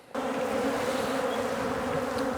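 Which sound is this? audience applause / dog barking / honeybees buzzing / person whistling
honeybees buzzing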